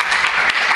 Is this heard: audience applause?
yes